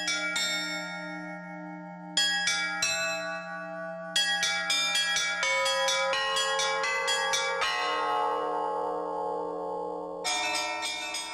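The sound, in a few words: carillon bells chiming in a Russian bell tower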